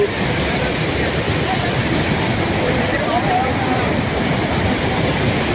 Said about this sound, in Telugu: పెద్దవాగు నుంచి వచ్చిన వాటర్ మొత్తం ఇక్కడ కోల్సాగర్ డ్యామ్లో పడ్డది.